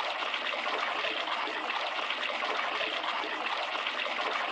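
Broadband rushing water runs steadily from start to finish, like a stream pouring from the waterfall tears in the Chibi-Robo video game house, with no one talking.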